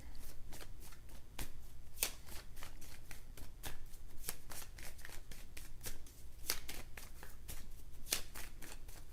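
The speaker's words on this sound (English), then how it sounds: "I'm going to pull one more card." Tarot cards shuffled and drawn by hand at close range, a steady run of crisp riffling flicks and soft slaps repeating for several seconds with no voices.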